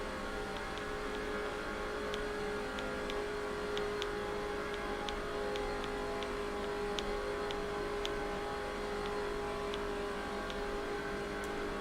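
Race cars on pit road in the video game NASCAR 06 Busch Series at Daytona: a steady, loud engine drone holds for the whole stretch with faint repeated ticking above it, and no voices.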